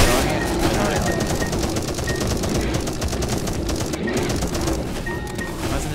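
Gunfire in the survival game 10 Miles To Safety crackles in a steady, rapid stream of shots, close and fairly loud, running without pause through the whole stretch.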